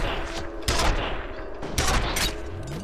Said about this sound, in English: Is this like some kind of automatic rail gun?